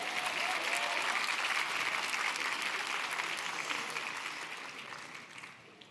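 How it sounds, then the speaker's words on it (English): A business conference audience applauds steadily, a dense wash of clapping that slowly fades toward the end, with no talking. "let's give an applause to the people who are still standing"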